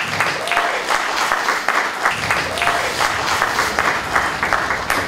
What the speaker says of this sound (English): Let us give a round of applause for Dr.